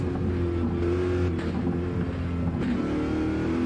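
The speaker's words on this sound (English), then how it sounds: "Now braking for the first chicane on the straight." GT race car in a racing video game at Le Mans, braking and downshifting into a chicane: a continuous loud engine drone with brief dips and blips at the gear changes.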